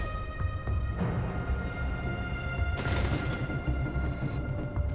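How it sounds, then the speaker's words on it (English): Video game gunfire in a competitive match, dense continuous shooting with rapid crackling bursts under a steady roar, with a louder burst near the end. "A hail of gunfire coming from all around him here from Bakery"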